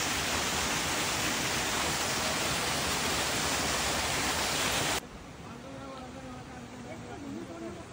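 River water rushing along a path in Nepal, a steady broadband roar that is loud and constant, then drops to a softer, closer flow halfway through.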